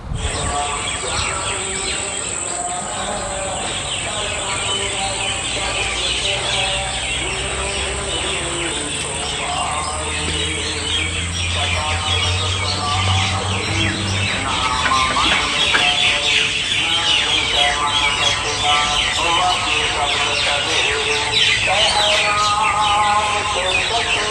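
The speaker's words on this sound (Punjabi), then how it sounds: "ਤੁਹਾਨੂੰ ਪੰਛੀਆਂ ਦੀ ਬਾਤ ਸੁਣਾਉਣੇ ਆ 2 ਮਿੰਟ ਤੁਸੀਂ ਉਹ ਸੁਣੋ" Many birds singing and chirping densely in the trees of a Punjabi village, a continuous chorus with insects and distant fowl clucking, fairly loud and steady throughout.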